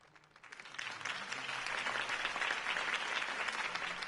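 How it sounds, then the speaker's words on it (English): Crowd applause in a Batman video game cutscene, a dense wash of clapping that swells within the first second and then holds steady and fairly close, with no talking. "If only Mr. Wayne, my campaign's largest backer, could have heard that applause"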